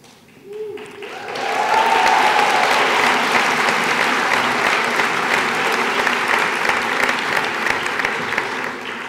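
An audience applauds at a university commencement ceremony in Switzerland: after a brief quiet moment, loud sustained clapping from a large crowd swells and fills the hall, continuing steadily to the end.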